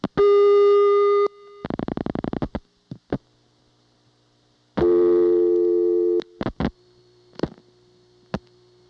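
A 1982 Siemens motor-switch telephone exchange in Ocala-Silver Springs, Florida, answers a dialed 119 with a steady tone, a burst of rapid pulses, scattered clicks, then another long tone and more clicks, clean and close.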